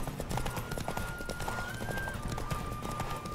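Horse hooves clip-clop at a steady galloping rhythm in The Witcher 3: Wild Hunt, close and continuous over layered game ambience, with a faint tonal hum running through.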